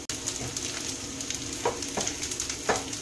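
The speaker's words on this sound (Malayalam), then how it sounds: "ഇപ്പം ഏകദേശം തേങ്ങാക്കൊത്ത് മൂത്തിട്ടുണ്ട്" Coconut pieces fry in a pan for traditional Kerala raagi unniyappam, giving a steady close sizzle with a few sharp stirring clicks and scrapes throughout; no talking.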